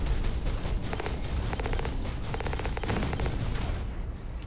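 Rapid gunfire from mech weapons in the video game Hawken, a dense stream of repeated shots in bursts over constant loud game noise.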